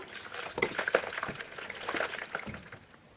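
A spoon stirs milk in a bowl, with light clinks against the sides and soft sloshing in an irregular rhythm, close by.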